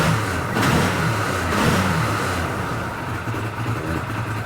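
A 2014 Arctic Cat Wildcat 1000X side-by-side engine, freshly cleaned injectors, revs up loudly twice in quick succession then settles into a steady, close-up idle.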